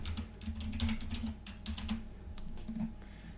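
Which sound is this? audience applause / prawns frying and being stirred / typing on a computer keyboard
typing on a computer keyboard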